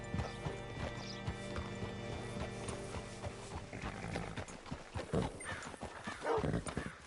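A horse in the video game Red Dead Redemption 2 clip-clops at a steady walk, then slows and lets out whinnies and snorts, close and fairly quiet, with no speech.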